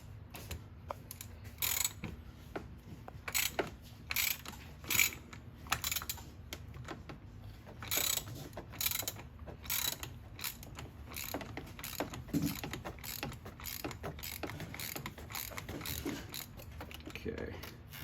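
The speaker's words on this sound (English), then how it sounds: "this is a 1 1/16 deep socket here. We're going to go ahead and loosen up" A ratchet fitted with a 1 1/16 deep socket loosens the oil filter on a 2022 Mercedes GLE450, giving repeated bursts of quick, close mechanical clicking with short pauses between strokes.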